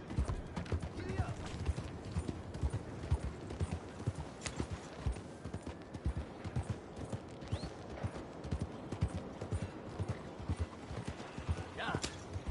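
Galloping horse hooves pound in steady rhythmic clip-clop from Red Dead Redemption 2, loud and continuous across the whole stretch, with occasional faint background effects.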